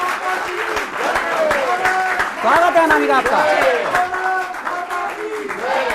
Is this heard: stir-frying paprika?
no